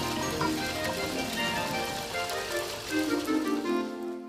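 Rainwater runs from a gutter down a drainpipe into a drain on a rainy day, a steady close splashing and trickling flow that carries on unbroken before cutting off abruptly at the end.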